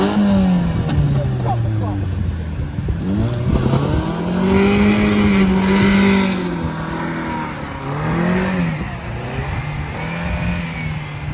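A 4x4 stuck in soft sand revs hard, its engine climbing and bouncing against the rev limiter in repeated surging pulses, loud and close, with possible tyre spin.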